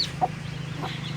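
Newly hatched broiler chicks peep and clucking chickens sound nearby: a few short, high chirps and clucks over a low steady hum, with no talk.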